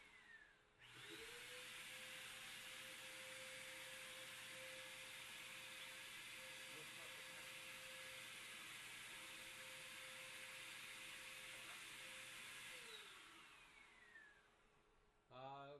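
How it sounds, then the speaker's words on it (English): A vacuum cleaner switches on, runs with a steady loud whine and roar for about twelve seconds, then winds down and stops. "that was my vacuum cleaner"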